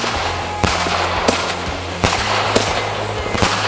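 Fireworks being set off, a steady roar of crackling with sharp loud bangs every half second or so, close and forceful.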